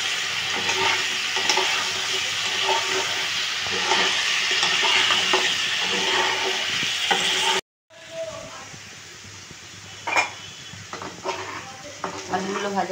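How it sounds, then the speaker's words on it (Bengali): Potatoes frying in a pan with turmeric and salt for a vegetarian paneer dish give a close, steady sizzle with stirring scrapes, cut by a brief silent gap partway through before the frying resumes. "আলুগুলো ভাজা হয়ে গেছে।"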